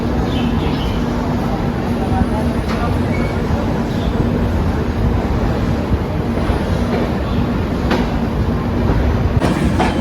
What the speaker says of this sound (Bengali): নির্দিষ্ট সময় থেকে 1 মিনিট দেরিতে আমাদের ট্রেন ছেড়ে যাচ্ছে।